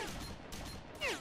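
NPC gunfire in STALKER Shadow of Chernobyl: a short burst of rapid shots followed by a sharper report, with a faint metallic whine at the end.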